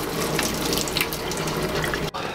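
Water runs steadily from a kitchen sink tap as food is drained through a strainer, a loud continuous splashing rush that cuts off briefly near the end.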